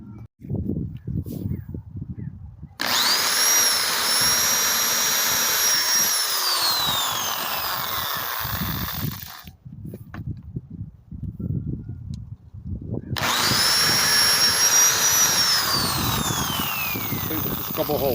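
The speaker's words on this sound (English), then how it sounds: "I will use this in my hand drill and drill just a couple holes" A hand drill bores a couple of holes into a block of wood being carved, whining loudly in two long bursts that each ramp up and then wind down, with knocking and handling noises between them.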